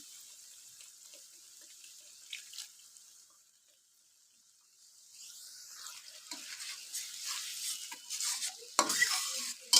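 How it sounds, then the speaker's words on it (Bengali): Spice masala for rohu fish curry, splashed with a little water, is stir-fried in a pan. A soft sizzle runs under scattered spatula scrapes that grow louder and busier in the second half. "মশলাটা ভালোভাবে কষিয়ে নেব"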